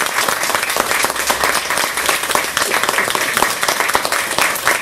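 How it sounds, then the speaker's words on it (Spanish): Dense, sustained applause from an audience at a school awards ceremony, where students receive certificates and prizes, fills the room at an even, loud level with no gaps. "Así que un aplauso para ella."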